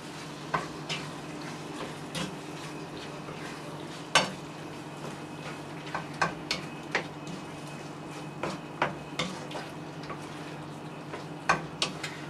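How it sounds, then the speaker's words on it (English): Sweet and sour chicken being mixed in a pan after sugar, salt and pepper go in, with a low steady sizzle under scattered sharp clicks and scrapes of a utensil against the pan. "At this point we're going to add our sugar and the salt and pepper, and we're going to mix again."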